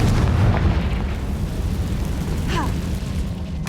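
A Confringo fire spell blasts in Hogwarts Legacy, a loud, rumbling boom with a roaring, crackling tail that fills the whole moment, followed by a brief whooshing flicker near the end.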